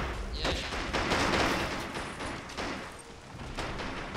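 Gunfire and explosions from a Men of War: Assault Squad 2 battle form a steady, loud fusillade of overlapping shots and dull thuds, continuous across the whole stretch.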